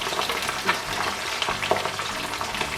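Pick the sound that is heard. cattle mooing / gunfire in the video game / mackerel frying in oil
mackerel frying in oil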